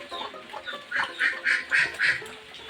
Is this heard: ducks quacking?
yes